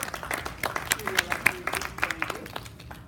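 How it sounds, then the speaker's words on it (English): An improv theatre audience claps steadily through the whole moment, a dense patter of applause with speech mixed in over it. "Round of applause for our volunteer."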